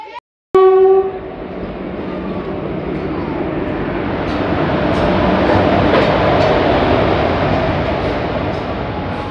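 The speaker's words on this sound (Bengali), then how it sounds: "এই যে এটা কাটোয়া আমোদপুর প্যাসেঞ্জার এসে পৌঁছালো।" A Katwa–Ahmadpur passenger train arrives, opening with a short loud horn blast and then a long, steady rumble of wheels and carriages rolling in close by.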